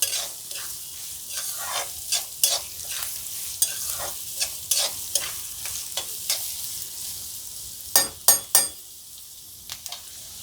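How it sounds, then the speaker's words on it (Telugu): Onions fry to golden brown in mustard oil in a pan for egg curry, giving a steady sizzle broken by repeated scraping, stirring knocks and a few sharper clatters of the spoon. "దీనికి గోల్డెన్ బ్రౌన్ చేసుకుందాం, ఫ్రై చేసుకుందాం."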